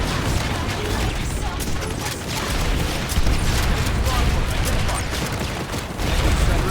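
Artillery cannon fire in the online shooter Planetside 2, a dense, continuous barrage of booming blasts and mechanical clatter filling the scene, loud and steady with a few sharper peaks, heard alone without talk.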